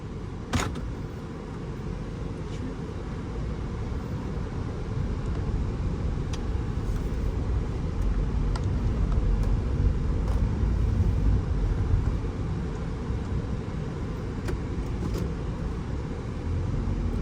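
A 2012 Toyota Alphard 2.4 automatic seven-seat minivan on a test drive, heard from inside as a steady low road and engine rumble with occasional faint clicks, no one speaking.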